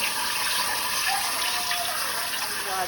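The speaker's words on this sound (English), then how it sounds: "Just cool water" Cool tap water runs steadily over freshly harvested basil leaves, a continuous splashing rush close by with no voices.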